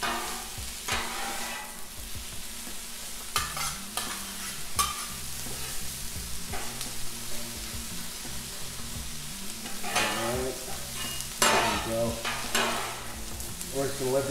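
Ham and onions fry on a Blackstone griddle while a metal spatula stirs and scrapes through them, a constant sizzle broken by sharp, repeated scraping strokes, close and fairly loud.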